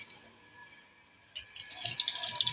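Water trickles and splashes from a production tap opened on a water treatment unit, starting faint and growing into a steady, brighter spatter after about a second and a half, with no talk.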